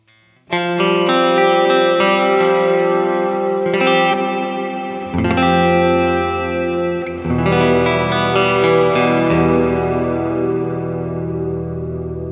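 Sustained electric guitar chords through a Wampler Catacombs reverb pedal, drenched in lush, spacious reverb, several strums ringing out and decaying smoothly into a wash of sound.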